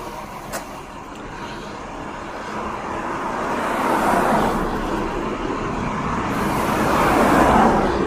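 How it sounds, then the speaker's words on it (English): Big diesel work truck idling nearby on a street, a deep steady rumble with rising and falling engine swells, close and loud with no talking. "There's a work truck with a big diesel next to me"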